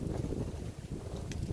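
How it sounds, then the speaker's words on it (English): Steady wind buffeting the microphone, a continuous low rumble with gusty roar and no speech, close and fairly loud throughout. "Happy, even though it's windy."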